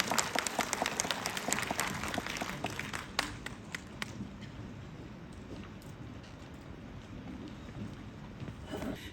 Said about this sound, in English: A big round of applause for each and every one of them.